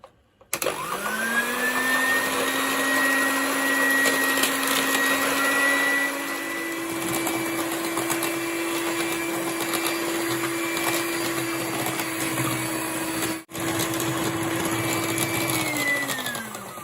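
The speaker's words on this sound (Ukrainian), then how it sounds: "І починаю одразу збивати це все міксером." An electric hand mixer whips cream at close range, whirring steadily, its motor pitch shifting slightly as it runs continuously for a long stretch before winding down.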